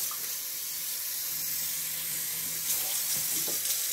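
A kitchen sink faucet runs steadily as the basin is rinsed out after washing mustard greens, a constant close hiss of water with a few splashy changes near the end and no talking.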